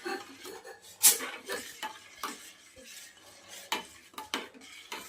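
Milk being stirred into water in a pot for tea, with a spoon clinking and scraping against the metal in irregular taps, one sharp knock near the start, close and fairly quiet.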